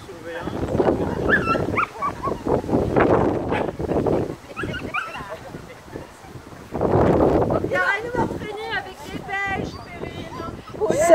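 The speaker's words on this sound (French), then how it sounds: "Tu es un bon chien." A dog whimpers and gives short yips close to the microphone, the high whining cries coming in bursts between loud gusts of wind noise, while a person speaks French to it.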